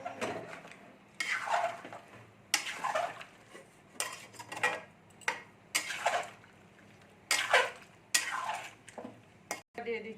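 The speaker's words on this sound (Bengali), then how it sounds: "দিয়ে এটা ঘেঁটে দিচ্ছি।" A spoon stirs homemade tomato sauce with added salt in a pan, giving quiet, intermittent scraping and clinking strokes against the metal, spaced irregularly with soft pauses between them.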